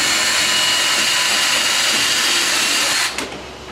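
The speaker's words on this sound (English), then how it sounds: "go around and drill a hole through the side piece and into your leg" A power drill bores a hole through a side piece into a pallet wood leg, giving a loud, steady whirring grind that runs for about three seconds before winding down abruptly.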